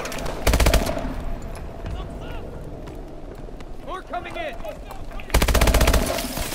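Gunfire in the video game Call of Duty Advanced Warfare: loud bursts of rapid automatic fire open and close the passage, with scattered shots and game effects between them.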